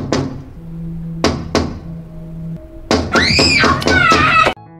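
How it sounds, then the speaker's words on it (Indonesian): At night, a few sharp knocks strike a window, set against a low hum. A loud, wavering scream then follows and cuts off abruptly. "Sementara Soyun terbangun mendengar jendelanya diketuk, kemudian dia menjerit"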